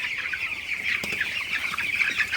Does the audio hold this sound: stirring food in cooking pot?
no